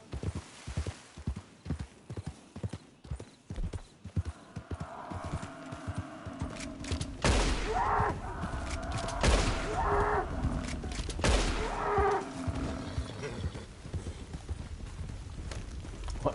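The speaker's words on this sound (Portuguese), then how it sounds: "O cavalo aqui não tem fôlego. Corre infinitamente." Horse galloping in the video game Red Dead Redemption 2, a steady rapid clip-clop of hooves that builds from sparse hits into a dense, loud run with occasional gunfire-like bursts and no talking.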